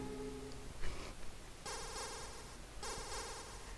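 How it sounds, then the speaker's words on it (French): Synthesized phone ringtone from the video game Metal Gear 2 rings in two bright, buzzing bursts at a moderate level, with quieter game tones before it. "Il y a mon portable qui appelle."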